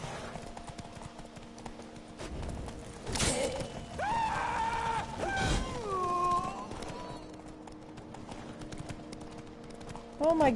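Horse hooves clip-clop in Witcher 3 gameplay, a steady clatter running throughout while a person talks over it and a brief whinny-like cry rises near the middle.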